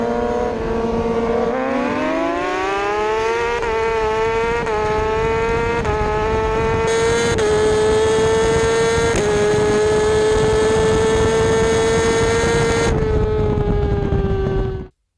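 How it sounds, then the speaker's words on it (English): A Kawasaki H2 motorcycle engine screams at high revs, its pitch climbing through several gear changes in a continuous, loud racing run that cuts off abruptly at the end. "This is the bike both myself and Reloaded threw kind of a beating"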